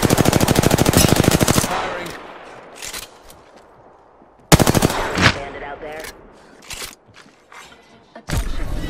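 Automatic gunfire in Apex Legends comes in loud, rapid bursts of several shots, with quieter single cracks and thumps between them and a last burst at the end.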